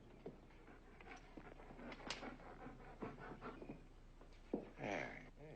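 A dog whimpering and panting softly, with scattered small whines and sniffing sounds, nearby and fairly quiet over faint room noise.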